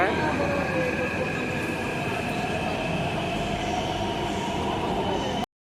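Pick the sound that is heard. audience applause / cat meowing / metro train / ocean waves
metro train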